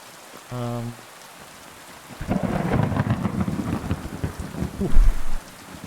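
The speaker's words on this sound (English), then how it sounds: "That thunder." Video game thunderstorm on PC at ultra settings: a brief tonal blip, then a deep rolling thunder rumble swells in under heavy, steady rain, peaking near the end before fading.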